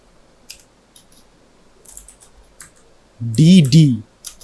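Sparse, scattered keystrokes on a computer keyboard while HTML list code is entered, quiet and close, with a short burst of voice partway through.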